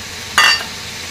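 Potatoes and green peas fried in a pan give a single brief burst of sizzling and stirring, loud and close, then quiet.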